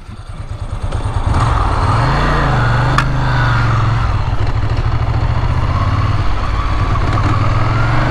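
A Ducati Monster motorcycle's dry-clutch engine runs loud and close, a steady throbbing idle with the revs swelling briefly before settling back, with no speech over it.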